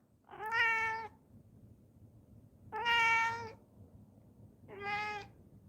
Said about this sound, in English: My cat's got something to say about John Cena retiring.